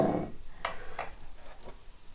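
Soft sizzling of a large parasol mushroom frying in a big pan, with a few brief crackly bursts over a steady low hiss; no talking.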